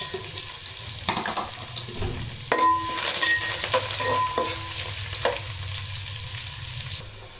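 Green chillies, onions and curry leaves fry in a pan, giving a steady sizzle with a few sharp clinks and scrapes of stirring in the middle, fairly close and heard alone.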